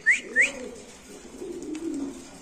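Domestic pigeons at a pigeon market in Bangladesh give two quick, clear calls followed by a soft, low rolling coo, close and fairly quiet.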